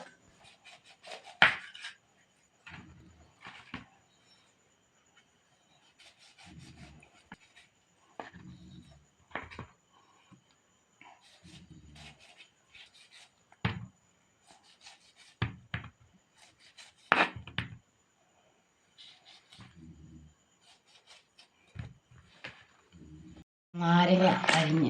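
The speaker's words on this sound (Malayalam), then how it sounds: "നാരങ്ങ അരിഞ്ഞ് വെച്ച്." Small wild limes (karunaranga) chopped on a board for pickle: a dozen or so separate, sharp knife strikes spread unevenly through a quiet kitchen, with someone talking between cuts and a louder rustle at the very end.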